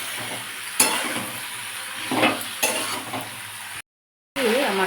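Ginger paste fries and sizzles in hot oil for shukto, with a steady crackle and repeated scraping stirs of a spatula in the pan, close and loud with no speech.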